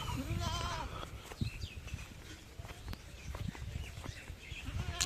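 A goat tethered on a farm beside maize and tobacco fields bleats a few times near at hand, its wavering cries over faint rustling and background noise.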